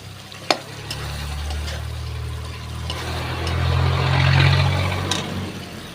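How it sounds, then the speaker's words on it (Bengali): Chicken yogurt curry sizzling and frying in a pan while being stirred, with a steady close hiss that swells toward the end and a sharp scrape or knock near the start, no voices. "তো এটা ভালো করে কষিয়ে নেবো।"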